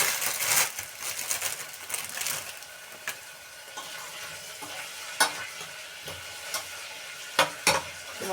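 Onion sautéing with salt and dill in a pan, a soft steady sizzle with scattered scraping and clinking stir sounds close by, no voices.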